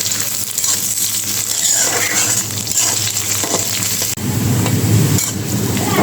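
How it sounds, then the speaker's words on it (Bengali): Green chilies, onions and thinly sliced garlic fry in a pan over a low gas flame, giving a steady, close sizzle with some stirring scrapes throughout, and no voices. "কাঁচামরিচ পেঁয়াজ এগুলো একটু লাল করে ভাজবো"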